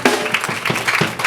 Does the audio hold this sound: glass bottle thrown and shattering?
no